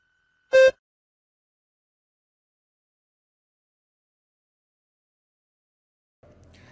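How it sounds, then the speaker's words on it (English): One short electronic beep from an English exam recording, sharp and tonal, sounds once and is followed by long silence, then a faint low rustle at the very end. "Begin to prepare your response after the beep."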